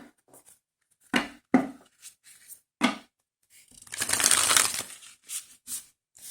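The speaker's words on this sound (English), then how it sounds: "So let's see how they shuffle." A deck of thick, flexible Hay House oracle cards is shuffled by hand indoors, with several short riffling bursts and taps followed by a longer dense ruffle, then a few softer card snaps.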